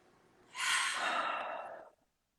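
A single deep exhale, close and breathy, is released slowly for about a second and a half and then fades into quiet.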